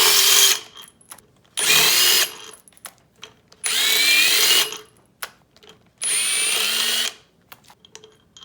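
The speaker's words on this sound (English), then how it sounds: "we're going to have to take all the bolts out in order to do that" A power tool, most likely an impact driver or drill, takes the bolts out of a Yamaha YFZ450 ATV during assembly. Three loud, sustained whirring bursts of about a second each are separated by short pauses with faint clanks.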